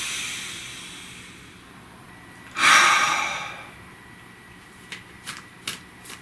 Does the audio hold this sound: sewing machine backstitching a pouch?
no